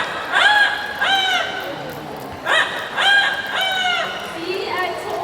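An Amazon parrot imitates a rooster's crow, giving two long rising-and-falling crowing calls in close succession, each loud and near, with a brief pause between them and light background murmur.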